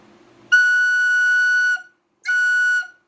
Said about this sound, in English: I'm tuning the whistle on the fifth note.